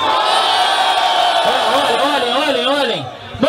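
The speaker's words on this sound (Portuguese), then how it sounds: "Aê, mão pro alto e barulho, Pelé." At a rap battle, a crowd cheers and shouts as a loud, broad roar, while a nearby voice yells over it through a microphone.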